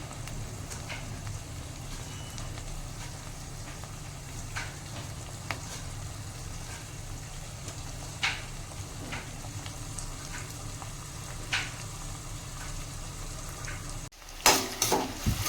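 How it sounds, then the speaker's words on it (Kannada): Vegetables cooking with tomato in a pan for a Sankranti bhartha, a continuous even sizzle with occasional stirring scrapes, then a few louder clanks right at the end. "ಇದು ಸ್ವಲ್ಪ ಫ್ರೈ ಆಗಲಿ."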